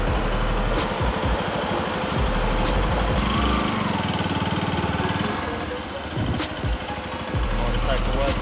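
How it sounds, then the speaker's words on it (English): A motorcycle, one carrying three riders, goes by on a road while a learner's motorcycle engine idles and revs nearby, the passing machine rising and fading over a steady low engine rumble. "Motorcycle was coming."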